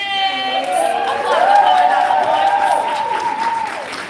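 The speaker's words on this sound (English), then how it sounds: "can we keep that round of applause going for all the poets that performed in round one?" Crowd applause for performers at a poetry slam festival in downtown Las Vegas, sustained clapping under a loud amplified voice that carries across the whole stretch.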